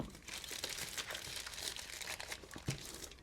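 A balisong knife cuts into an Amazon package, producing close, quiet crinkling and tearing of plastic and paper packaging in irregular bursts.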